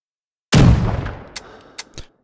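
A single loud blast from a short-barrelled coach gun shotgun in Rising Storm 2 on a practice range, a heavy boom with a long fading tail followed by a few faint mechanical clicks and clacks.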